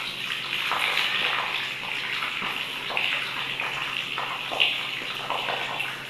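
Water running from a tap while it is scooped into cupped hands and rubbed over the face during ablution, a steady close splashing gush with a few brief louder splashes.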